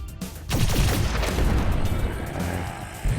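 An RPG rocket launcher fires in the zombie shooter game Idle Zombie Waves, loud booming blasts that merge into a dense, rolling barrage of explosions, with a fresh hit near the end.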